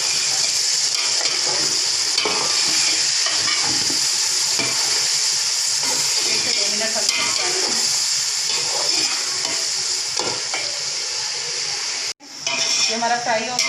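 Chicken and yogurt fry in a pot for chicken yakhni pulao, giving a dense, loud, continuous sizzle with stirring clatter throughout that cuts out sharply near the end.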